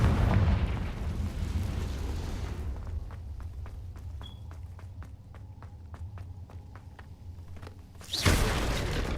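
A Confringo blasting spell in Hogwarts Legacy sends out a loud burst at the start, then a string of sharp rapid ticks over a low rumble, and a second heavy whoosh-blast near the end.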